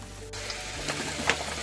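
Water poured into a pan of kofta curry with yogurt sets off a close, steady sizzle and bubbling hiss, with faint stirring scrapes over the simmer.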